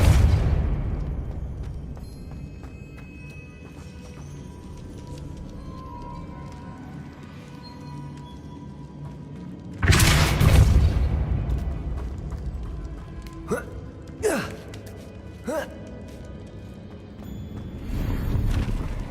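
Depulso spell cast in the Hogwarts Legacy video game on PS5, a sudden loud booming burst mid-clip, followed by a few sharp whooshing blasts over low game ambience.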